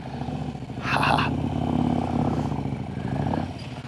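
A motorcycle pulling away in second gear in San Francisco traffic, its engine note rising briefly with a clattery burst and then settling into a steady, close drone.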